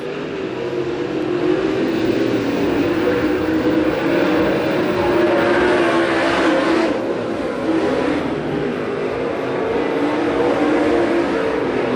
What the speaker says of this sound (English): 8-car field here in heat number 2. Cars all stretched out around that top shelf.